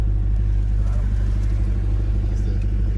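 A 2020 Chevy Corvette C8 V8 rumbles at a steady idle, a deep, loud continuous low drone close by, with faint talk in the background.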